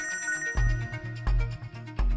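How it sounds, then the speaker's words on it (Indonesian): A phone ringtone plays loud and close, a repeating melodic tone pattern with a thumping bass beat that recurs about every three quarters of a second, with no one speaking. "Ada telepon, aku angkat dulu ya."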